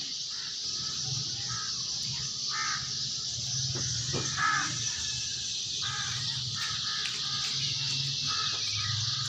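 Crows cawing outdoors in the early morning after dawn, repeated harsh calls at moderate distance over a steady bed of other birdsong and ambient noise.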